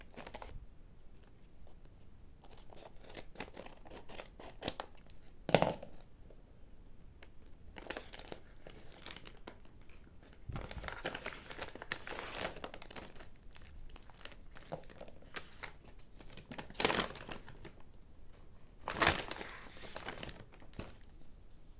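Packaging for an unboxing is opened with intermittent crinkling and rustling, including a few sharper tearing crackles, close and fairly quiet, with no talking.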